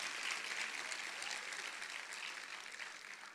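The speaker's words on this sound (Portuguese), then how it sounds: "Até aplauso saiu nessa hora." Applause from a church congregation during a sermon by a pastor, a fairly faint, steady wash of many hands clapping that thins slightly toward the end, with no talking over it.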